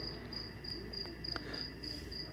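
Crickets kept in a breeding bin chirp in quick, evenly spaced high trills that repeat steadily over a faint background hiss, fairly quiet and close.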